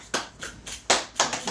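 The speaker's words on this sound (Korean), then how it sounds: "박수." A few quick hand claps ring out indoors, three or four close, crisp bursts in an uneven rhythm over about a second and a half.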